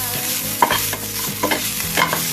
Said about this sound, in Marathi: आता बघा, यामध्ये आपण टमाटर टाकलेले आहेत. याला सुद्धा आपण छान प्रकारे परतून घेऊया.